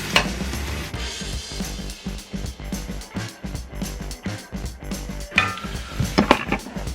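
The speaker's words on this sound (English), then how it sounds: "Do this with the beef until it turns brown." Ground beef browns in a pot for street tacos, with a soft sizzle under repeated scraping and stirring strokes in an uneven rhythm, close and moderately loud.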